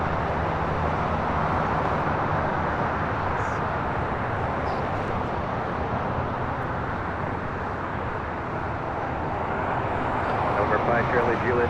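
A Southwest Airlines Boeing 737-700 airliner arriving at LAX from Tucson, its engines producing a steady, broad roar that holds loud and continuous throughout, with faint radio chatter in the background.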